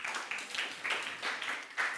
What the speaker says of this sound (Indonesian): Tepuk tangan buat Abel.